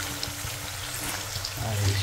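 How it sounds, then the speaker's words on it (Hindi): Jackfruit pieces and potatoes fry over low heat in a pan, giving a steady, soft sizzle throughout with a low background hum and no clear talk. "कटहल भी गया फ्राई होने के लिए, आलू एकदम फ्राई हो गया फर्स्ट क्लास"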